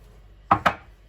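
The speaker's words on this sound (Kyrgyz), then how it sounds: "Эми биз окропту турап алабыз." Dill being chopped with a knife during potato recipe preparation: two quick, close, sharp cuts on a board, alone and clearly heard.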